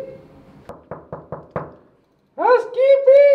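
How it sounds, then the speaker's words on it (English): Five sharp knocks on a hotel room door in a quick, even series, followed by a pause and then a loud voice calling out at the door. "Just knock on the door."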